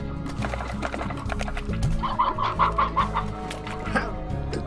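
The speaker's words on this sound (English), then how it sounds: "Are they coming over here eating my chickens?" Chickens in the video game Slime Rancher clucking repeatedly in short, close bursts over a busy background of game sounds and music.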